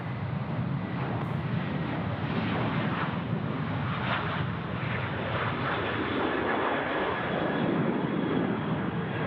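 Airliner at Sydney Airport, heard as a steady, broad engine roar that holds at a constant level throughout, with no voices.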